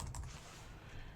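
Someone types on a computer keyboard at close range, a quick, steady patter of key clicks.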